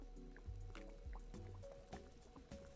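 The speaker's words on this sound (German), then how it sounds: "Es fängt schon an zu blubbern, falls ihr das auch hört." Water starting to boil in a pot in the brewing video game Brewmaster: quiet bubbling, dripping and glugging pops recurring irregularly, faint and close, with no talking.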